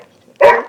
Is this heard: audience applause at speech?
no